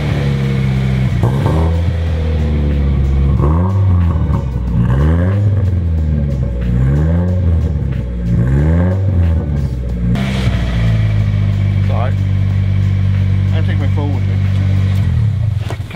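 A freshly built SR engine in a Nissan S14 runs loud and close, revved repeatedly in rising and falling sweeps before settling into a steady idle, with talking over it.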